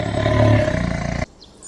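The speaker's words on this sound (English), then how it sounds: "Tiger." A tiger lets out one loud, deep sustained roar lasting over a second, then breaks off abruptly into near quiet.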